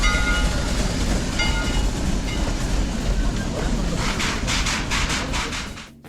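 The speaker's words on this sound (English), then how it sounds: "Roaring Camp offers steam train rides through the redwood forest" Steam excursion train at Roaring Camp rolling through a redwood forest, a steady low rumble of cars on the rails throughout, with a brief burst of hissing or clatter near the end before it cuts off.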